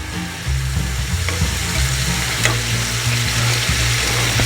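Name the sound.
stew meat browning in a pan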